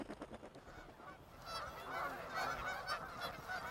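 A flock of geese honks in California's Central Valley during fall migration: overlapping calls, sparse at first and then a dense, louder chorus that continues to the end.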